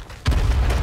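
A grenade explodes in the battle royale game H1Z1 with a sudden deep boom after a quiet moment, followed by a heavy low rumble that lingers to the end.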